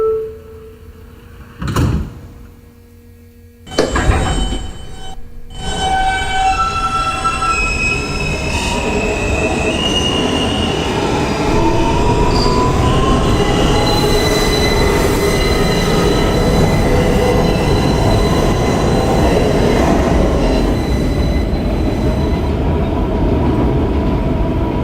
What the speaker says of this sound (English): This is a Manhattan-bound N train via the R line.